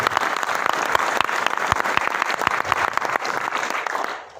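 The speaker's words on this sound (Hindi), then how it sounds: "एक जोरदार तालियां होनी चाहिए इस कंपनी के लिए।" Audience at an Ayurveda health-awareness talk clapping loudly for a company: a dense, sustained burst of applause from a crowd that fades out at the end.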